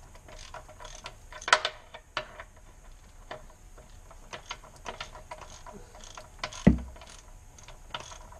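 A ratchet wrench loosening the oil drain plug on a 2005-10 Ford Mustang GT, a series of soft clicking ratchet strokes with a few louder metallic clanks, close and fairly quiet.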